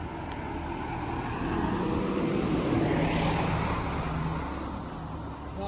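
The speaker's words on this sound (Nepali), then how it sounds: "गाडी आएको है" A road vehicle approaches and passes in a Japanese countryside village beside a pond with boats, its broadband engine and tyre rumble swelling toward the middle, then easing off, with no talk.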